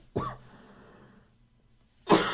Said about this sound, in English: And now I have to cough.